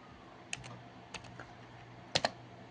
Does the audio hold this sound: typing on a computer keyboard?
yes